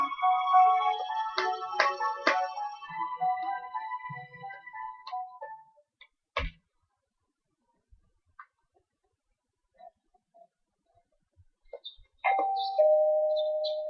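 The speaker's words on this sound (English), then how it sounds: "You hear the doorbell ring. Someone seems to be at the door." A doorbell chimes in the video game Persona 4. It follows a fading melodic chime passage and a sharp click, then comes as a clear, sustained electronic ding near the end after a near-silent gap.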